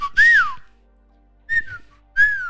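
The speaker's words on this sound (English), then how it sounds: "this is our whistle." A person whistles a family signal call used to find each other, three separate rising-and-falling whistles with short gaps between, loud and close with no talking.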